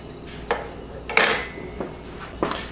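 A utensil scrapes and taps against a bowl while salt is mixed into flour for cinnamon roll dough, a few sparse clinks and one brighter scrape, close and fairly quiet.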